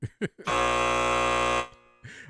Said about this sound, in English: give myself the buzzer for that